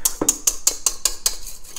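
A whisk clatters against a mixing bowl while powdered sugar is worked into a meringue mixture, giving about eight quick, evenly spaced metallic taps close by.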